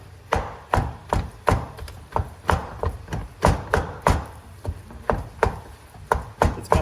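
Steady repeated chopping of food with a utensil against a hard surface while making huevos rancheros, about twenty close, sharp knocks in an even rhythm, alone without talk.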